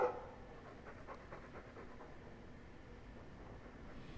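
A dog pants in the video game Dragon Age 2, a steady run of quick, breathy huffs that continues for several seconds at low volume over a dim background rumble.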